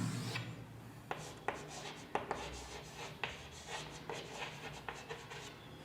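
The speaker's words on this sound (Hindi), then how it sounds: "यहां पे मैं इसका फुल फॉर्म लिख देता हूं।" Chalk or marker writing on a board during a Class 11 physics lesson on units and measurements: faint scratchy strokes with several sharp taps, fairly quiet and close.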